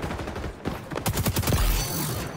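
Rapid gunfire in the video game XDefiant, aimed at teammates, a quick burst of close shots rattling out over a second or so against background game noise.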